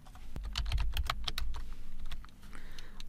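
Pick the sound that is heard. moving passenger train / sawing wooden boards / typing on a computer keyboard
typing on a computer keyboard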